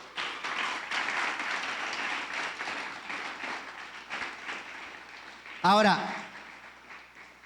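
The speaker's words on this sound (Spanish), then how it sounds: "Démosle un aplauso a Dios entonces." A church congregation claps in a sustained patter that fades toward the end, then a short loud burst of speech cuts in near the close.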